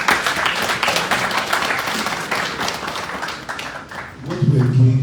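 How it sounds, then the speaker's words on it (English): Audience applause in a hall at a Sierra Leone SAATM panel discussion, dense steady clapping for about four seconds before a voice starts speaking near the end. "please give a round of applause to"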